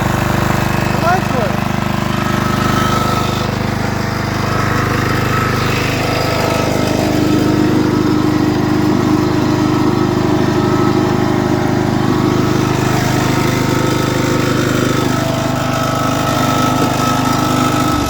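Toro 12-32 riding lawn mower engine running steadily, loud and close throughout, a continuous droning hum with no pauses.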